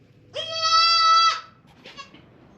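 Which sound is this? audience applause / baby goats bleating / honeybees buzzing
baby goats bleating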